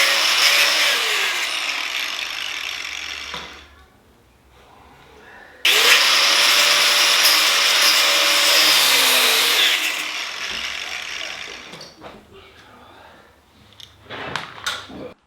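A power tool cuts through the struts of a Harley-Davidson Sportster scrambler build. A loud, close, high-pitched whining cut runs for a few seconds and stops, a longer second cut follows, and then come scattered metallic clinks and handling noises.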